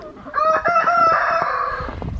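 Backyard chickens in a snowy chicken yard, a rooster crowing loudly up close over steady clucking from the flock.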